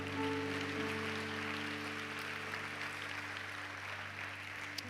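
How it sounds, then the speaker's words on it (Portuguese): Church congregation applauds in a large room, a broad wash of clapping held at a moderate level under a steady sustained organ or keyboard chord, with no talking. "Você pode dar um aplauso ao Senhor?"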